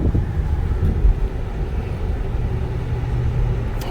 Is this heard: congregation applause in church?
no